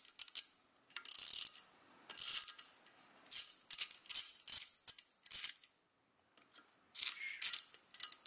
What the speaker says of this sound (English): just tighten these screws up slowly